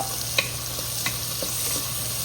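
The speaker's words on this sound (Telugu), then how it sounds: "సో దానికంటే ముందు కొంచెం సాల్ట్, పసుపు యాడ్ చేసి ఫ్రై చేస్తున్నాను" Onions fry in a pan with salt and turmeric for mushroom pulao, making a steady close sizzle with a couple of brief stirring scrapes.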